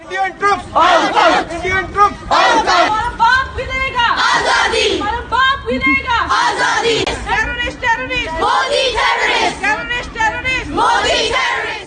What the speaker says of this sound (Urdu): مظاہرین نے بھارت مخالف اور کشمیر کی آزادی کے لیے نعرے بازی کی۔